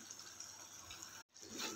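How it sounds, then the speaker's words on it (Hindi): Water is poured into ginger-garlic paste while cooking Peshawari charsi chicken karahi, making a soft, faint splashing pour with a brief gap before it resumes. "अदरक और लहसुन का जो पेस्ट बनाया था उसमें थोड़ा सा पानी ऐड करके इसमें डाल दिया है"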